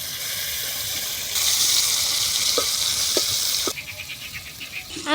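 Fish sizzling in a pan of frying onions and greens in a home kitchen, a steady loud hiss that swells for a stretch, with a few spatula scrapes and short pops near the end.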